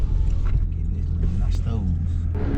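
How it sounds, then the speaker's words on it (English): A car sits idling through a Corsa Extreme exhaust, a steady low rumble running continuously beneath people talking nearby. "Hey, sound pretty good at the idle."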